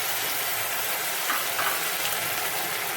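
Water poured into a bowl holding a little oil, giving a dense, steady hiss and sizzle that lasts a few seconds with no voices.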